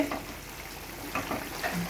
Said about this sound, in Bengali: ফুটছে।